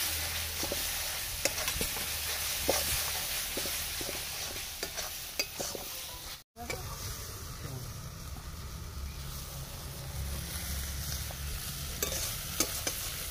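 Green chilies go into a pan of spice mix frying in oil for a Bengali fish curry, a steady sizzle broken by light spatula stirs and clicks, with a brief cut midway.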